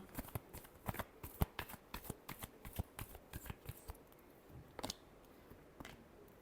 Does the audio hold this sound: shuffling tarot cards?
yes